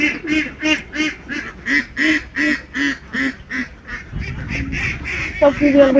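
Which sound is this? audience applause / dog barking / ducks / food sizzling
ducks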